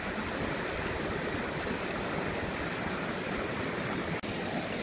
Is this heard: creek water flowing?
yes